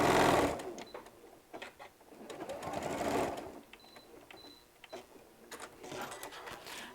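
A sewing machine stitches fabric for a bottle bag holder in bursts of steady whirring, starting and stopping several times at close range with no talk.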